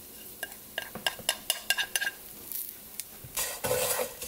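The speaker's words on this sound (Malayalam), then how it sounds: "ഇനി ഇത് കുറച്ച് നേരം പെട്ടെന്ന് ഇളക്കിയെടുക്കുക" Spices being stirred in a pan while cooking a Kerala eggplant theeyal, with a run of short scraping and clinking strokes, a light sizzle, then a louder, denser burst of stirring toward the end.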